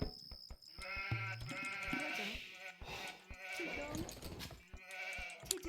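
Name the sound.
sheep bleating in a real-time strategy video game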